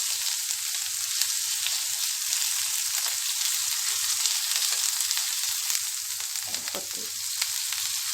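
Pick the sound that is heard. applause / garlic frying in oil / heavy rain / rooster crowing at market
garlic frying in oil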